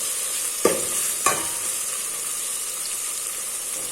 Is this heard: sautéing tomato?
yes